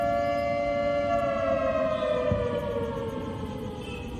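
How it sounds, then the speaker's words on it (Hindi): Air raid alert sirens wail in Jammu during a blackout, a loud sustained mechanical tone that holds steady and then slowly slides downward, with no voices over it. "जम्मू में भी अलर्ट सायरन बजा है"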